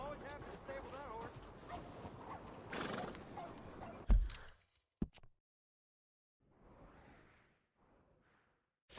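A horse in Red Dead Redemption 2 snorts and whinnies while its hooves clip-clop at a stable, layered over game ambience. Several seconds in, the sound cuts to near silence, broken by a sharp knock and a few faint later sounds.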